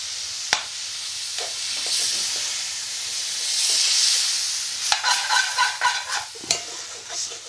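Half a ladle of base gravy poured into a hot pan of chicken tikka curry, bursting into a loud hissing sizzle that swells and fades, followed by the scrape and knock of stirring.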